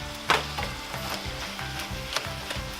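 Ground bison and ground beef sizzle and crackle in a hot pan, with a few scraping stirs and soft clunks of a utensil over the steady frying hiss.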